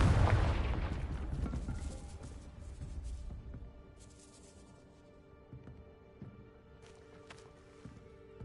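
A Confringo fire spell blasts at a gatehouse in Hogwarts Legacy, a loud booming explosion up front that rumbles and decays over a few seconds into a faint crackling tail with scattered small impacts.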